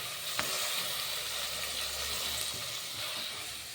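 Onions sautéing in a pan until golden, with fennel seeds added: a steady, close hiss of sizzling oil with light crackles and a brief scrape near the start, no voices.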